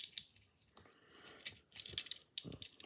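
Plastic parts of a 1988 Transformers G1 Spinister toy click and snap as they are folded in, a close, quiet series of short clicks and ratcheting taps.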